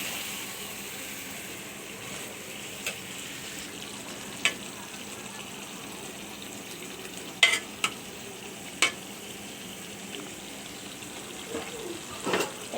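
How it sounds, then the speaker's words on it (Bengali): Hilsa fish frying in a pan over cooked-down tomato, a soft steady sizzle with scattered sharp clicks of a utensil stirring, close and continuous with no voices. "এবারে আমি ইলিশ মাছগুলো দিয়ে দিচ্ছি। ভালো করে নাড়া দিতে হবে।"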